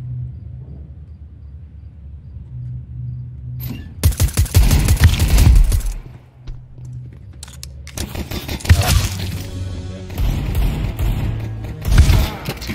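Counter-Strike 2 pistol fire comes in sharp, loud bursts of rapid shots, with one cluster and then a longer stretch of repeated firing, separated by quieter lulls.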